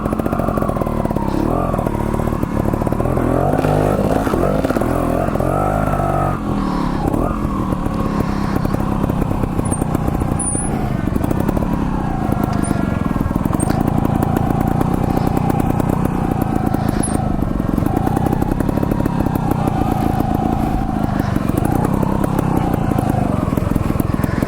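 A trials motorcycle ridden off-road, its engine running continuously and close with a buzzing, rising and falling tone as the throttle opens and eases, loud throughout with no talk.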